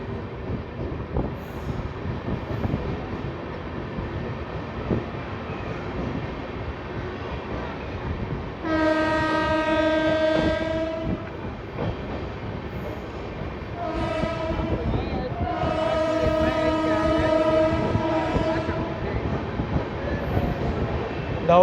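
The 19575 Okha–Nathdwara Express runs through Godhra Junction without stopping, a long loud rumble of rolling wagons and clattering wheels, with two long blasts of its horn partway through.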